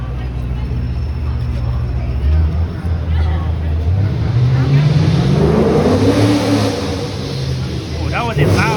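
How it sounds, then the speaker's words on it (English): A loud motorcycle engine roars past, its pitch climbing as it accelerates nearby, over a background of street noise and chatter on Danforth Avenue, Toronto. "That was a loud motorcycle."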